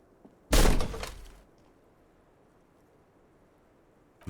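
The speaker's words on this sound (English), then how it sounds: "This time, something cracks inside." A small, heavy door forced open in Disco Elysium gives one sharp, loud crack and crunch lasting about a second, then fades into quiet room tone.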